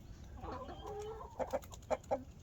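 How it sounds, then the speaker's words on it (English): A flock of chickens, including Silkie chicks and a rooster, cluck softly nearby in a quiet setting, a brief murmuring call followed by several short sharp clucks. "Come on, Reggie, come get some of the flock block."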